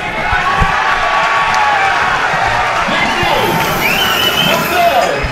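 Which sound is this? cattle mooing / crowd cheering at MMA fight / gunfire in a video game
crowd cheering at MMA fight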